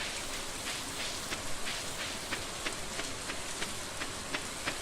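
Steady rain falls in the Stardew Valley farming game, a continuous hiss of drops with faint scattered patters across the whole stretch and no voices.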